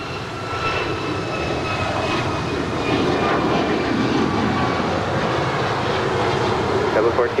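Jet airliner taking off from runway 25 right at LAX, a loud, steady, broadband engine roar that holds and swells slightly over several seconds, heard from the airfield with radio talk over it.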